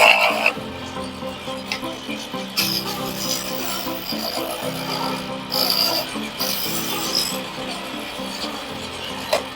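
A steady rubbing, rasping drone of a wood lathe turning a colorful segmented pen blank, with a low spinning hum, continuous for the whole stretch with small swells in intensity.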